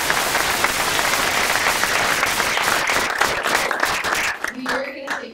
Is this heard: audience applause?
yes